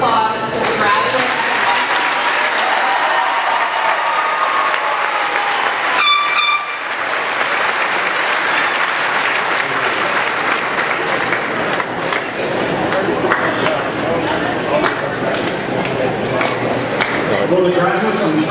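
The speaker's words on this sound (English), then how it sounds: "Please join me in a round of applause for the graduates." Sustained applause for graduates at a mid-year high school graduation ceremony fills a large hall, a steady dense roar of clapping with a brief burst of horn-like tooting partway through.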